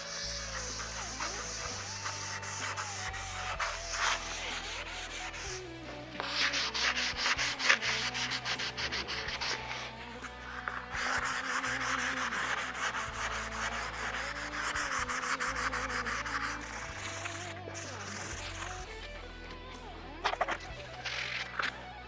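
Steady rubbing strokes of 600-grit sandpaper across a guitar's finish scrape back and forth continuously, close and moderately loud, with brief pauses between passes and no talking.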